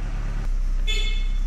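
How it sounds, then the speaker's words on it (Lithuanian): A cheap aftermarket electric car horn fitted to a VW Golf Mk2 blares once for about half a second, a loud, close, multi-tone toot over a steady low engine idle. "Signalas veikia iš AliExpreso labai gerai"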